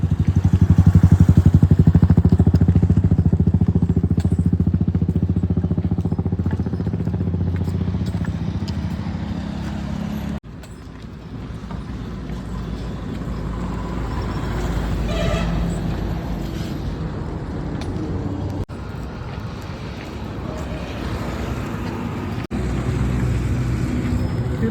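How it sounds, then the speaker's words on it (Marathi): Road traffic on a highway near Jabalpur being crossed on foot, with motorcycles and cars passing close by, a steady loud engine rumble that dips briefly and then swells again throughout. "हायवे रोड लागतो आहे तो क्रॉस करून आपण आता पलीकडे बाजूला जातो आहे"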